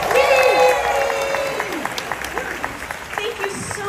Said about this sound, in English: Let's give a big round of applause for Selena Arvizo